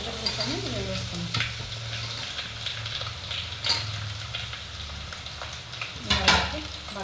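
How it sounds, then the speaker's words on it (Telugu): Chopped vegetables stirred into a hot tempering of oil and cashews for vegetable rice sizzle steadily in a pan, with scraping stirs and a louder clatter near the end; no talking. "ఇప్పుడు మనం ఇంకా కట్ చేసుకున్నటువంటి వెజిటబుల్స్ అని వేసుకున్నాం."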